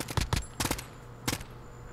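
Gunfire in the Call of Duty Warzone video game: three quick bursts of automatic shots, each a short cluster of sharp cracks, moderately loud and spaced about half a second apart.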